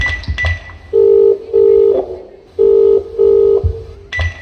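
A telephone call to a father rings out in paired, steady electronic tones with short gaps between them, loud and close, framed by a few brief clicks of handling.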